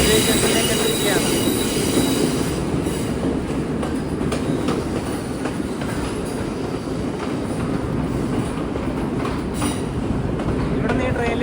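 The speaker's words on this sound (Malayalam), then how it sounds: "ട്രെയിൻ ഇതാ കൊളംബോ ഫോർട്ട് റെയിൽവേ സ്റ്റേഷനിലേക്ക് എത്തിയിരിക്കുകയാണ്" A train pulls into Colombo Fort railway station, its wheels squealing and clattering loudly and continuously on the rails throughout.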